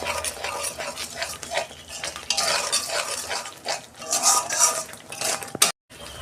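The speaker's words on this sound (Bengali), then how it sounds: "এটা আমি ভালো করে কষাবো।" Potatoes and cauliflower with ground coriander and salt sautéed in a pan, a spoon scraping and clinking against the metal in repeated close strokes over a light sizzle, ending in a brief knock and a moment of silence.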